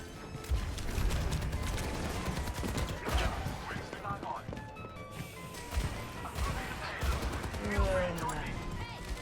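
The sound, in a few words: enemy gunfire at Reaper in Overwatch 2 video game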